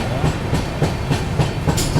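The Ratnachal Express, Bengaluru–Bhubaneswar superfast, pulls away on the main line with loud, close rhythmic clickety-clack as the wheels cross rail joints over a steady rumble.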